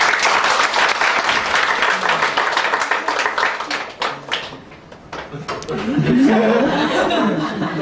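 A church congregation applauds a couple announcing their upcoming wedding during a Sunday service, steady clapping filling the room before fading slightly, with chuckles and a voice rising near the end.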